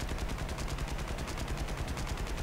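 Rapid machine-gun bursts from an aircraft's many guns in the War Thunder video game, a dense continuous rattle of fire throughout, steady and fairly loud.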